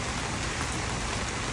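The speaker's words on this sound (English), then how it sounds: "Well, it's really raining." Heavy rain pours outside on a street, a dense, loud, steady hiss of drops on surfaces with no breaks and no voices.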